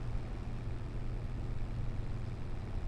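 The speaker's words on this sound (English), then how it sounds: "It'll just be tractor noises and my voice" Steady low diesel rumble of a tractor engine in Farming Simulator 25 while harvesting, a continuous heavy drone at even volume with no talking.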